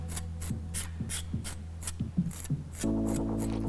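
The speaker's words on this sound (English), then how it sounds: "turn it back over to the front and comb that side one last time" Repeated rhythmic rasping strokes of a comb pulled through macrame cord fringe on a heart wall hanging, about eight close, even swipes, followed by a steady background hum.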